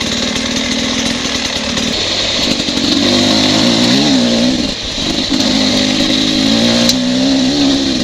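A Beta 300RR two-stroke dirt bike rides in third gear, its engine a loud, continuous raspy drone with a slight dip and rise in pitch as the throttle changes.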